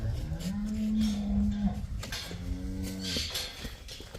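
A cow moos twice, long, low and loud, close by, with a short pause between the calls and no talking.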